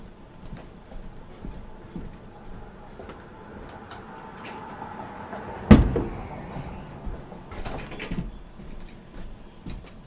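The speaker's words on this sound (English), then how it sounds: "I am going to now shut the door." A door at a street-front art gallery shuts with one sharp, close thud halfway through, set among quiet indoor rustling and small knocks, with no one talking.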